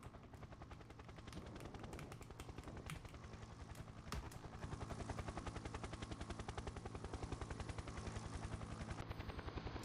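A video game helicopter's rapid rotor chop thumps steadily and loudly, growing slightly stronger, with a constant engine whine and no talking.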